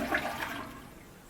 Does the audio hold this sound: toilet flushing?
yes